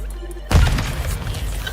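Grenade detonation in Call of Duty Modern Warfare: a quiet lull, then one sudden heavy boom with a deep thump, trailing into a rumbling, debris-filled decay.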